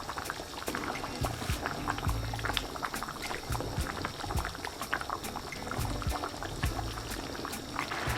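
A pot of rice simmers in water, bubbling steadily with soft popping and crackling, a continuous close-up boiling sound with no voices.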